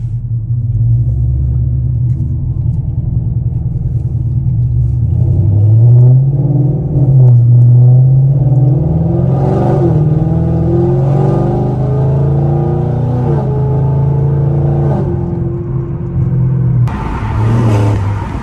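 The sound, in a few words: car engine accelerating while driving in track mode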